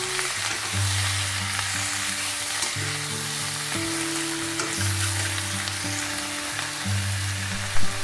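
Shredded cabbage, chopped tomatoes and spinach leaves sizzle in a frying pan under a layer of background music, a continuous hiss running the full eight seconds.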